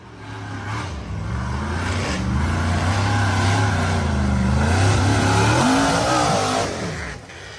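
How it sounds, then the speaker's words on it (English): An off-road frame buggy's engine drones loud and steady as it pushes up a dirt slope in a forest, its pitch rising and falling with throttle before easing off near the end. "The white and gray frame buggy tried to accelerate up the dirt slope in the forest"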